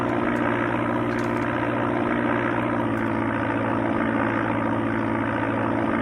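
Simulated propeller airplane engine from Sublogic Flight Simulator II on the Amiga, a constant loud droning buzz with a steady tonal hum, running unbroken the whole time without any speech.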